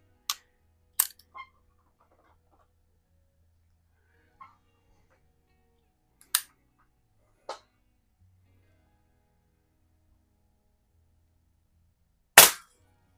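A Rohm Twinmaster Match air pistol fires at a can, producing sparse, isolated sharp cracks with long quiet gaps between them. The final shot is the loudest.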